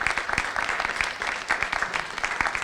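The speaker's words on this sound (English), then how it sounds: "If you could give a great round of applause" Audience applause at a housing summit panel session, a dense steady patter of many hands clapping throughout, moderately loud with no talk over it.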